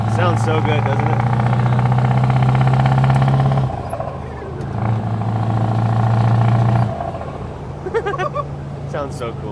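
An unloaded Scania semi truck hauling an American trailer gives a deep engine drone that surges twice, falls away between the surges, and eases off toward the end, with a voice speaking over it.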